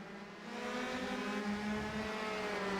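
Race cars at Mid-Ohio in a racing video game, engines droning in sustained high tones that shift pitch slightly as the cars brake into a fast corner, loud and continuous without talk.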